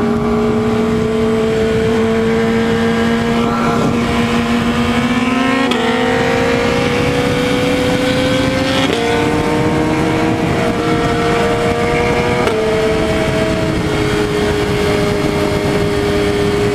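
A Yamaha R6 sport motorcycle with a newly fitted exhaust, its engine loud and close, running in a steady strong drone with rising and stepping revs throughout and no voices.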